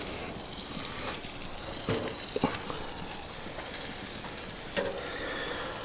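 Burger patties sizzling on a Monument Grills Mesa 305 gas grill, a continuous crackling hiss with a few sharper pops and scrapes.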